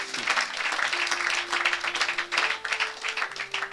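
A church congregation at a deliverance service claps together in quick rhythmic bursts, with a sustained tone and faint voices beneath the clapping.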